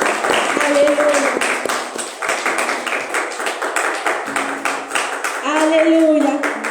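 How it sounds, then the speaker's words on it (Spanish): A church congregation claps loudly and rhythmically in praise, sharp, close hand claps in a steady beat with a voice and sustained tones rising over them at times. "Dele ese fuerte aplauso a nuestro Dios"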